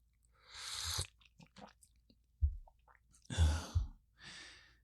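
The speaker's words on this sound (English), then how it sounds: "Sipping tea sounds is probably not so beautiful to listen to" Someone close by takes three slurping sips of hot red fruity tea, each a short breathy burst with quiet pauses between.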